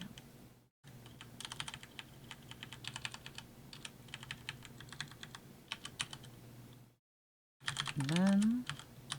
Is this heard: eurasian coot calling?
no